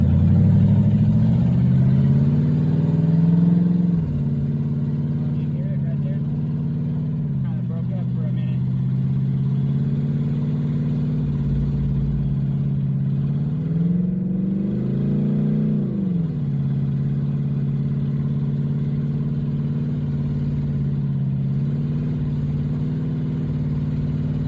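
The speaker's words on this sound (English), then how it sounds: "so far, the engine's running pretty good" A Ford Mustang engine runs steadily while warming up, its low, rough rumble continuous and close, with a couple of slight rises in pitch as it revs gently; talk is heard over it.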